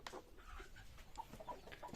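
Chickens clucking at close range in a backyard coop with quail, short irregular clucks and calls scattered over a steady low background hum.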